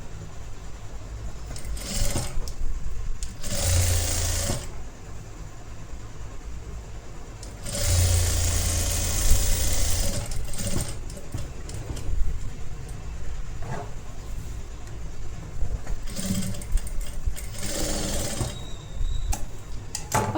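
Sewing machine stitching a collar-neck blouse, the motor running in steady whirring runs with short louder bursts of stitching and brief pauses between, close and continuous.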